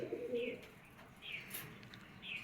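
A racing pigeon coos softly, giving a few low throaty coos against a quiet background.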